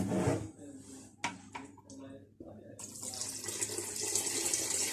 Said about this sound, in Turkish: Şimdi suyumuzu ekliyoruz.